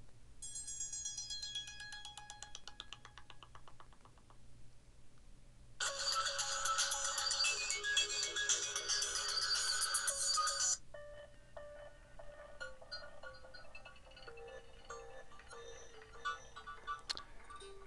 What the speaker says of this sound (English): any ringtone that you would like to preview, all you have to do is select that ringtone and it will preview automatically